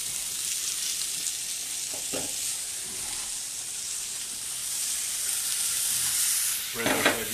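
Zucchini and onions sizzle and crackle in a hot pan, a steady broadband hiss running throughout with a few louder stirring scrapes and bursts, the last near the end, close and fairly loud with no talking.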